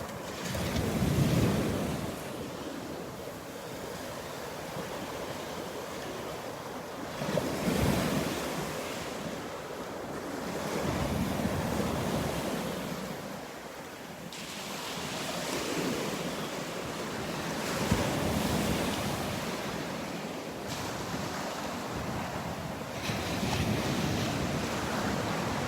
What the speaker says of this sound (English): Those are some pretty decent sized waves out there breaking on the outer edge of the sandbar.